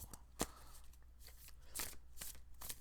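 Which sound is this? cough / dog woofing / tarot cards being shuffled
tarot cards being shuffled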